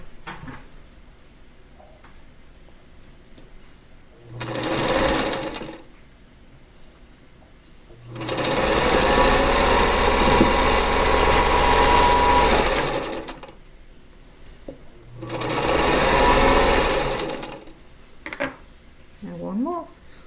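A sewing machine stitches quilt pieces in three separate runs: a short burst, a longer steady whir, then another short burst. Quiet handling noises and light talk fall between the runs.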